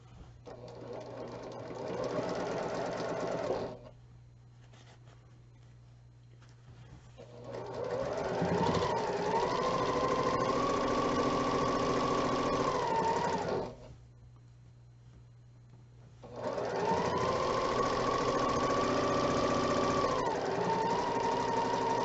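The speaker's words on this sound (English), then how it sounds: "I'm just going to lay that on top of there and sew these rows together to make our block." A sewing machine stitches rows of a quilt block together in two long, steady runs of whirring motor hum, separated by brief pauses; close and fairly loud, with no talk.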